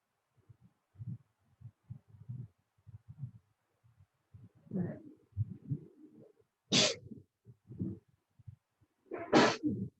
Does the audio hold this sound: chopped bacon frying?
no